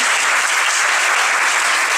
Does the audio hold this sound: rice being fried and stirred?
no